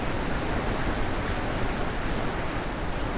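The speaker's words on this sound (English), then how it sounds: "Looking at this waterfall. Really like this waterfall." A waterfall in the video game The Witness gives a steady, dense rushing roar, broadband and unchanging, close and loud with no voices.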